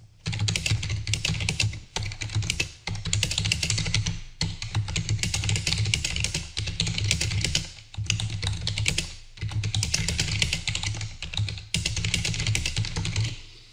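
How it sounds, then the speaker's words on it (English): Fast, steady typing on a computer keyboard entering a prompt, close and dense with rapid clacking in long runs broken by brief pauses. "all I've done is type out a prompt"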